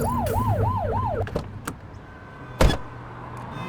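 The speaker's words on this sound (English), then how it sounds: "Remember to turn your siren on." A police siren in a city patrol game wails in a rapid rising-and-falling cycle for about a second, then cuts off, leaving engine hum and a few clunks including a sharp thud.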